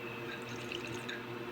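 Water runs steadily into a container being filled at night, a faint, continuous trickle and patter with no voices over it.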